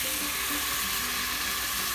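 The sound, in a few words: octopus with tomato being stir-fried in a pan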